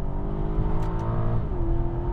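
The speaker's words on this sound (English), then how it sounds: "I love that V8 soundtrack." A 2021 Aston Martin DBX V8 engine drones steadily while driving, holding a smooth harmonic growl that drops slightly in pitch near the end, loud and close with no talk.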